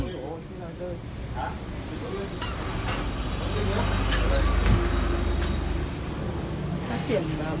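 A dense chorus of farm-raised crickets trills without pause in a constant high-pitched hum, over a low rumble of background noise and faint distant voices.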